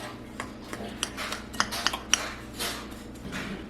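A spoon stirs sugar into sweet potato cornbread batter in a bowl, giving soft scraping with a few light clinks against the dish, quiet and close, with no talking.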